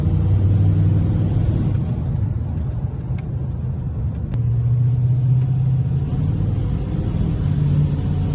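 A Ford F150 pickup truck's engine idles steadily, a low continuous rumble heard close up and alone, with slight swells in pitch partway through.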